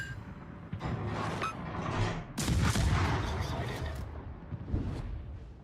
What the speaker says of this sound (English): We can start shooting for free now with our guns.